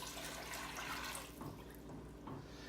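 Five cups of water pour steadily into a pot for a pickling liquid, a continuous splashing rush that holds for the whole stretch at close range with no talk.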